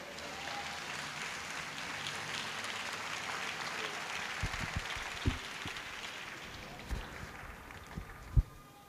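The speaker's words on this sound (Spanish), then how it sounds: "Denle un aplauso al Señor." A church congregation claps steadily in a broad wash of applause, with a few sharper thumps near the end.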